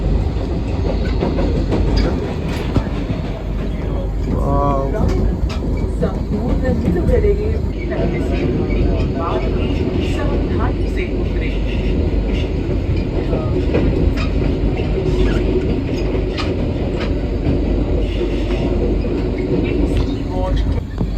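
Mini Vande Bharat express rolling into Kacheguda on the Bengaluru–Hyderabad run, a steady, loud rumbling drone of wheels on rails heard from inside the coach, continuous throughout with people talking over it.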